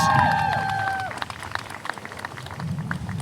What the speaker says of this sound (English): Give Jonathan a round of applause.